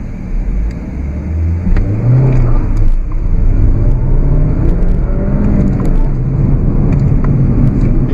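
A Mini Cooper Chilli with a 120-horsepower engine pulls away from a start, its engine rumbling loud and close with a rising rev, heard from inside or near the car with no one talking.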